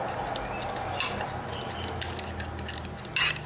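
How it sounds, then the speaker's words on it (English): A whisk beats molasses and eggs in a bowl for bran muffins, a soft continuous stirring with a few sharper clinks against the bowl's side. "So whip the molasses with the eggs."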